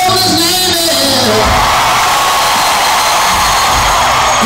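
A concert crowd at an outdoor show in Erie, Pennsylvania screams and cheers loudly in a dense, sustained roar, with music fading out beneath it at the start.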